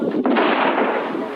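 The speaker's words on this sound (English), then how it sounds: "The explosion is a small one." A small butterfly mine goes off in Soviet-era Afghanistan, one loud sharp blast followed by a broad rushing rumble that fades over about a second, with no voices.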